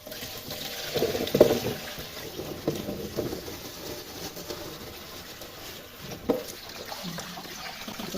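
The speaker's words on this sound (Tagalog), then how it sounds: "Padaanan lang natin ng tubig." Running water rinsing freshly harvested mulberries, a steady splashing pour with a couple of brief louder splashes, close by.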